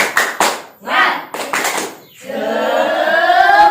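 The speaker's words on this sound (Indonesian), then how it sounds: "Tepuk tangan untuk kita semua." Children at a fourth-grade primary school lesson in Indonesia do a rhythmic spirit clap, with bursts of clapping mixed with a teacher's chanting, then a sustained voice over a short cheer.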